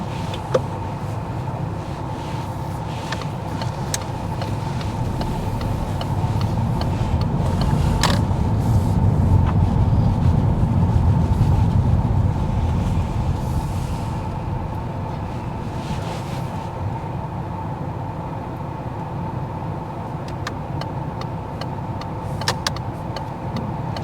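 A car on a driving test pulls away and then reverses into a parallel park behind a blue car, its engine a low steady rumble that swells midway and eases off, with faint mechanical clicks.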